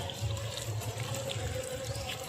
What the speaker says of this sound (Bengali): ধুয়ে নেওয়া হচ্ছে ছোলা হয়ে গেছে দেখতেই পাচ্ছেন ভালো করে এটাকে ধুয়ে ধুয়ে নিতে হবে